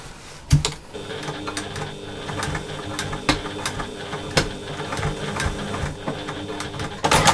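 Sewing machine stitching a rectangle of fabric for a slouchy bag, a steady mechanical whirring clatter with brief pauses and knocks, close and continuous.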